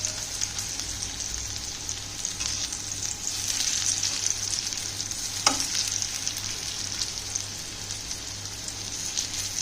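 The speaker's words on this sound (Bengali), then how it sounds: "এক পিঠ একদম লাল লাল করে ভাজা হয়ে গেছে, আর আরেক পিঠ, ওই পিঠটা ভাজতে খুব একটা সময় লাগবে না।" Moringa leaf pakoras (boras), turned once and browned on one side, fry steadily in hot oil with a continuous close bubbling sizzle and one brief sharp clink partway through, with no voices.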